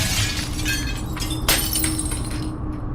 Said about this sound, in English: the window in the family room blows inward in a twinkle of glass